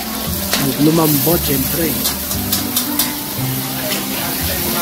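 Small slices of squash sauté with garlic and onion in a pan, giving a steady close sizzle with stirring, while a voice talks over it.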